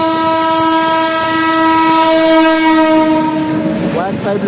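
A passenger train on the Azimganj–Rampurhat line, hauled by a locomotive, arrives at a station and sounds a long, loud, steady multi-tone horn that holds for several seconds before a brief clatter at the end.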